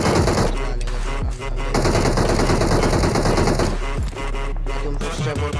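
Bursts of rapid automatic gunfire rattle loudly in a video game shootout, with short gaps between sustained volleys and faint voice in the background.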